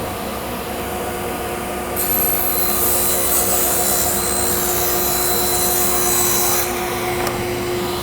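A table saw cuts a piece of wood in a workshop: a loud, steady motor whine is joined by a harsh, bright ripping roar for several seconds as the blade passes through, then eases back.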